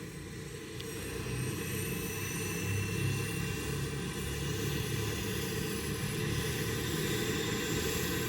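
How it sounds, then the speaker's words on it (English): A plane's engines drone steadily as it departs nearby, a constant low rumble with a faint high whine, heard from a distance without voices. "Don't usually get to be this close to a plane as it leaves."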